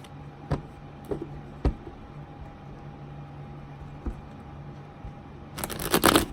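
Tarot cards handled alone in a quiet room: a few sharp taps as cards are laid down, then a brief burst of riffling shuffle at the end.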